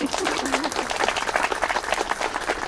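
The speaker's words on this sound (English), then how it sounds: "A round of applause, please." A wedding crowd applauds with dense, steady clapping that holds at an even level throughout, with a brief voice faintly underneath at the start.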